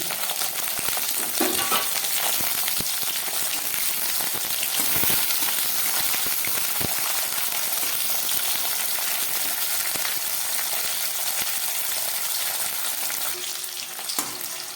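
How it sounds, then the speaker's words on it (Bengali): Potatoes and flat beans frying together in a pan of oil, a steady close crackling sizzle with occasional stirring scrapes throughout, no talking. "আমি একসঙ্গেই সব সবজিগুলো ভেজে নিচ্ছি"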